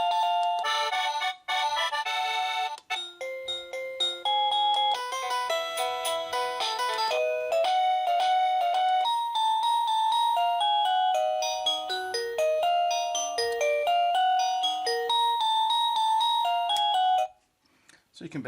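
A SECRUI wireless doorbell cycles through a long run of melodic electronic chime tunes after its button is pressed, loud and continuous for many seconds before stopping abruptly.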